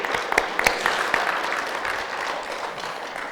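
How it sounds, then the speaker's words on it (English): A crowd claps steadily, with a few sharp individual claps standing out early before it settles into a dense, even patter. "a little rousing applause for the Irish"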